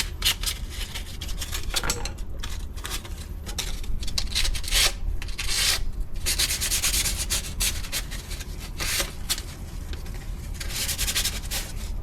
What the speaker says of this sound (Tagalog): Kailangan liha mo rito yung pino para hindi siya mga gas-gas.